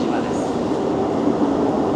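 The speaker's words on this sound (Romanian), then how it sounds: "Acum vine trenul." A train pulls into a station in Japan between Kyoto and Osaka, with a loud, steady rumble and roar of the rail cars that fills the whole clip.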